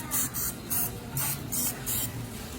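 Cooking spray hisses from an aerosol can onto a corn dog maker in short repeated bursts, about six quick sprays in a steady rhythm, close by.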